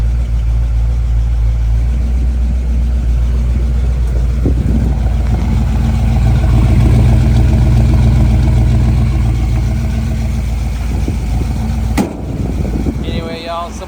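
A 1967 Ford Bronco with a brand new exhaust idles steadily, a low rumbling engine drone holding close and loud, with a person talking over it.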